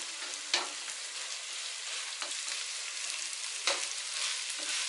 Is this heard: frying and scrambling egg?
yes